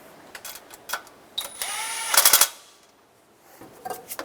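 Tightening a starter bolt on a 2000-2006 Toyota Tundra: short bursts of a ratcheting tool, a louder rapid clatter midway, then scattered small clicks, close and moderately quiet.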